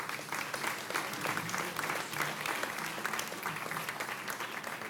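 Applause at the 19th annual Varsity Sports Awards ceremony, a fairly quiet but continuous patter of many hands clapping across the room, heard from a distance without talk over it.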